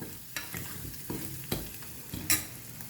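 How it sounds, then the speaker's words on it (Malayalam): Masala with coriander powder roasting on a low flame for green peas curry, soft sizzling with a few distinct scraping stirs of a spoon against the pan, close and fairly quiet, no talking. "മല്ലിപ്പൊടിയും കൂടെ വന്നിട്ട് ഒന്ന് ലോ ഫ്ലെയിമിൽ വെച്ചൊന്ന് മൂപ്പിച്ചെടുക്കാം"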